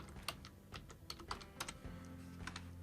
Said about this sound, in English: I'm going to type in the word region